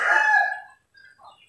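A rooster crows once, loud and close, trailing off, followed by a few softer clucks from farm chickens among young chicks.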